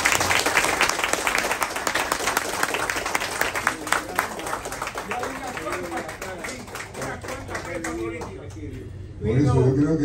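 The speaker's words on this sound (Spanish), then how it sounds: "Les pido un fuerte aplauso" Strong applause rises from the audience at a José Martí commemorative dinner, dense and loud at first, then thinning as voices come through and a speaker talks near the end.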